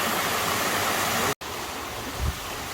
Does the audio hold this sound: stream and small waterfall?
yes